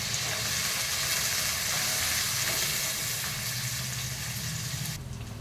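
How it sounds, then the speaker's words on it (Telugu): Finely chopped onion, one large onion's worth, sizzles steadily in a hot pan as it browns for a mushroom pulao, a dense continuous hiss with faint stirring, no voices, easing slightly in the last half-second. "ఉల్లిపాయలు కొంచెం బ్రౌన్గా వేగాలి"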